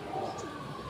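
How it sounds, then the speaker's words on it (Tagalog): A racing pigeon coos softly once, close by, over a steady outdoor background hum during a training flight. "meron na tayong ibon"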